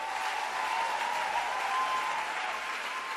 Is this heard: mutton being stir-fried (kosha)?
no